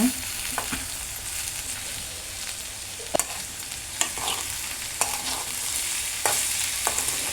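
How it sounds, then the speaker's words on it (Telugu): Beans curry fry stirred in a pan with garlic paste: a constant low sizzle of frying broken by repeated sharp scrapes and clinks of the spoon against the pan, close and alone without talk. "ఇప్పుడు ఇలా కలుపుకోవాలి మొత్తం"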